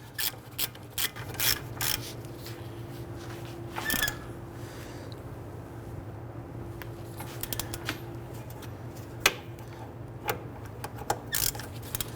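A ratchet snugs down the caliper bracket bolts on the front of a 2011-2017 Nissan Quest, producing bursts of quick clicking at close range over a low steady hum.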